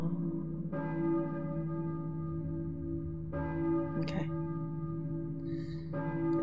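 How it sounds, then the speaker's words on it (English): A deep church bell tolls in Silent Hill on PS1, three slow resonant strikes spaced a few seconds apart, each ringing out with a long humming decay, distant and solemn over a low ambient drone. "I hear a church bell, maybe? Who is ringing the bell?"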